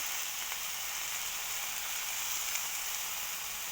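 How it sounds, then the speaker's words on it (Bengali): Chopped jute greens sizzle in a hot pan, a steady broadband frying hiss that runs unbroken and fairly loud throughout, with no talk. "সিম্পল একটা ভাজা।"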